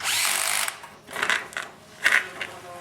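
A 14.4-volt DeWalt cordless drill whirs in short bursts driving oil pan bolts on a Subaru, three quick runs with pauses between, close by and fairly loud.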